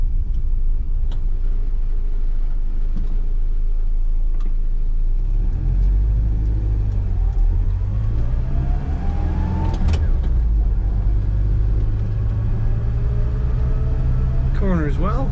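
A 1982 Chevrolet S10 pickup with a manual transmission drives along, its engine rumbling low and steady under the cabin with a swell as it accelerates. Someone talks over the engine the whole way through.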